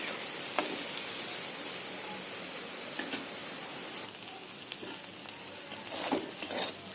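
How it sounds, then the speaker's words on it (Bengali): Soybean chunks fry in a hot wok with a continuous bright sizzle and hiss, broken by a few soft stirring scrapes. The sound is close and steady, with no one speaking. "সোয়াবিনটা ভাজা হয়ে গেছে।"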